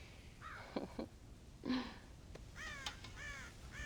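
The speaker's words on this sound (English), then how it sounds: "God damn crows!" Crows in the video game Red Dead Redemption give several harsh, fairly faint caws in an uneven sequence, with a trailing cluster of calls near the end over a quiet outdoor background.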